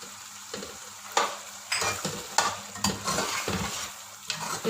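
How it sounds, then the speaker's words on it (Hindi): Mutton frying in oil in a pot with yogurt added, a steady close sizzle broken by repeated scraping and clanking stirs of a spoon against the metal. "गोश्त भुन रहा है, साथ ही इसमें हम दही डाल देते हैं।"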